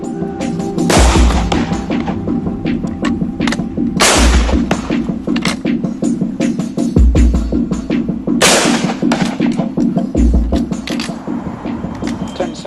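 Springfield rifle shots ring out one at a time, loud and sharp, with several reports spaced a few seconds apart and bolt-reloading clatter filling the gaps between them.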